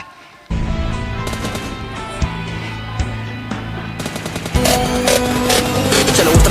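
Gunfire in the mobile battle-royale game PUBG Mobile Lite: sharp shots and bursts start abruptly and keep going over steady in-game music, growing louder and denser near the end.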